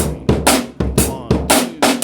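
Drum kit groove with extra snare in the mix, played at a faster tempo: crisp snare hits on the backbeat over kick and cymbal, in a steady repeating pattern, loud and close.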